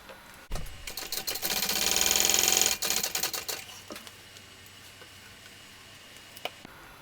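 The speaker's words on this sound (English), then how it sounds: "we're going to top stitch" Sewing machine top stitching a shoulder bag, a close mechanical whir that builds into a rapid steady run for about two seconds, then stops, followed by a few short bursts and scattered handling clicks.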